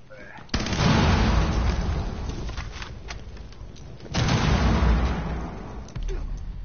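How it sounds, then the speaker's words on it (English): A heavy-recoil gun fires in the Rainbow Six Siege video game, two loud, booming bursts with sharp onsets that trail into rumbling decay, close and dominant over the game mix. "this gun has the biggest recoil"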